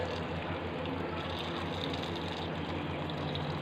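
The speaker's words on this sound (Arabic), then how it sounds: "هننزل عليه بميه مغليه" Boiling water poured over lemon peels with no lemon flesh in them, a steady continuous splashing and trickling that stays close and even throughout, with no talk.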